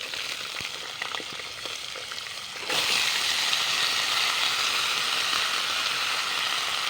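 Cut carrots and potatoes hit hot mustard oil tempered with cumin seeds in a wok; after a quieter stretch a loud, steady sizzling bursts up and keeps going without letup.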